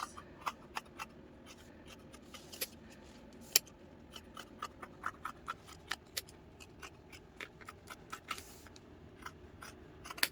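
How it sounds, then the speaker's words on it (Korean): Scissors snip through a folded fabric hem for baby clothes, giving a steady run of sharp, close, quiet cuts at a fairly even pace with no talking. "이렇게 겉과 겉끼리 접은 상태에서 이제 밑단을 시접을 주지 말고 똑같이 잘라야 되겠죠"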